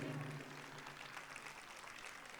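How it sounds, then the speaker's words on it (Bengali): An audience claps at a dance program, a soft, sustained patter of many hands heard at a distance, with a brief voice at the very start. "চলতে থাকুক আর একটু এই করতালি"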